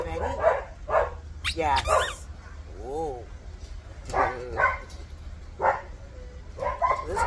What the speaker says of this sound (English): They have crazy dogs in there today.